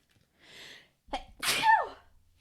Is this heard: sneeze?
yes